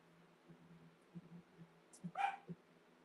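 Indoors, a pet dog gives a short, sharp bark or two, fairly faint and distant against a quiet room hum.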